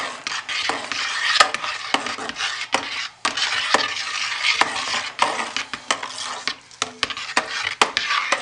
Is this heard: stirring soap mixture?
yes